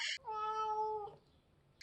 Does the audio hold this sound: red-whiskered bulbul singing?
no